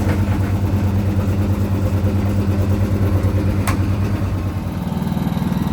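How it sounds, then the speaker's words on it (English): A Honda EU70iS generator runs at a tire-changing setup, a steady low engine hum with a throbbing idle rhythm. It stays continuous and close, shifts slightly near the end, and no one speaks. "The generator is Honda FI EU70IS, and it's very silent."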